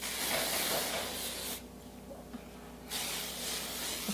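Bed Head Head Rush shine spray is misted onto hair in two close, steady hissing bursts separated by a short pause.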